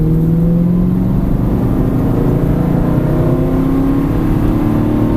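Aston Martin V8 Vantage engine pulling hard on a racetrack, a loud steady drone with pitch climbing gradually as it accelerates out of a corner, heard close from inside the car without talk.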